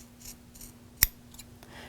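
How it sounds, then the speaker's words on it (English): A single crisp snip of scissors trims fabric quilt binding near a mitered corner, sharp and close in an otherwise quiet room with a faint steady hum. "using our scissors, we're going to trim approximately 1/4 inch away"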